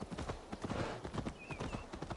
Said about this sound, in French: Il faut que tu cours, petit cheval!